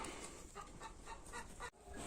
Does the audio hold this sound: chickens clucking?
yes